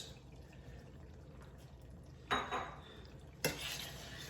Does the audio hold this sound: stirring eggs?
yes